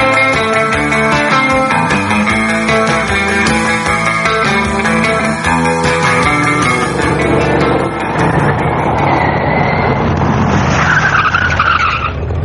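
A taxi drives with a loud, continuous engine and road roar that fills the space. Tonal layers shift, and toward the end there is a rising tire-like squeal or whine.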